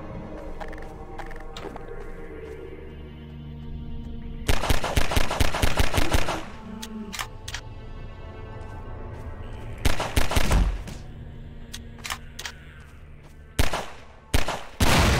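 Gunfire in the Half-Life 2 video game: loud bursts of rapid automatic shots in several volleys over a continuous game soundtrack and ambience, with no talk.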